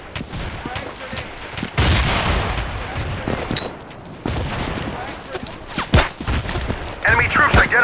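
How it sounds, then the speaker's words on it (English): A frag grenade blast and bursts of gunfire from Battlefield 2 combat, with sharp shots and heavy thuds scattered over several seconds, fairly loud, with radio-style voice callouts in between. "Frag grenade."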